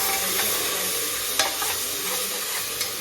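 Onion and tomato frying in a pan for chowmein masala, a loud continuous sizzle with brief stirring scrapes breaking through now and then.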